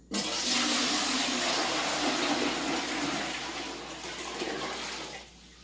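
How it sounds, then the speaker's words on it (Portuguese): Water poured into a pan over fibres makes a close, steady rushing splash for about five seconds, easing slightly before stopping abruptly. "Com um pouco mais de água para poder cobrir as fibras."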